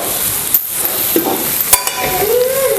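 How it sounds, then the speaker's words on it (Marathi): Mackerel (bangda) fish fry coated in masala dropping into hot oil, with sharp splashes and clatter followed by a loud, continuous close sizzle, no voices. "तर आता आपण हे तेलामध्ये सोडूया"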